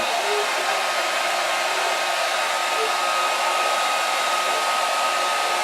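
A hair dryer runs continuously nearby, warming a wooden flute blank, a steady loud whooshing hiss with a faint whine, no voices.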